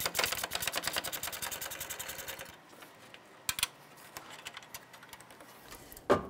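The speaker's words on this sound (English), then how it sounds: "Use our 12 millimeter gear wrench to go ahead and loosen and remove these." A 12 mm gear wrench ratchets rapidly as it loosens the horn mounting bolts on a 2012-2017 Toyota Camry, a dense run of close clicking followed by quieter intermittent ticks and a sharp clack at the end.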